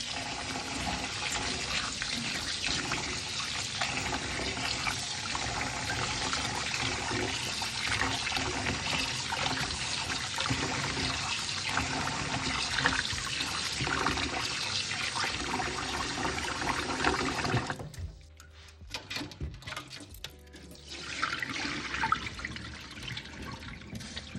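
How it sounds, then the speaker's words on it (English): Cold running water splashes steadily over rice being washed for most of the clip, then briefly drops away before a quieter burst of trickling and sloshing returns. "We're gonna wash the rice."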